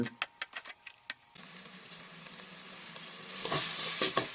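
Sliced pork dropped into a hot pan for green curry with young coconut shoots, starting with a few sharp clicks and knocks, then settling into a steady close sizzle that swells toward the end as the meat is stirred.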